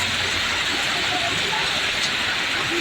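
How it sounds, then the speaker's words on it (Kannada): Heavy pre-monsoon rain pours down in Chamarajanagar as a dense, steady wash of hiss without a break. "ಅದರ ಭಾಗವಾಗಿ ಇದೀಗ ಚಾಮರಾಜನಗರದಲ್ಲೂ ಕೂಡ ಭಾರೀ ಮಳೆಯಾಗಿದೆ"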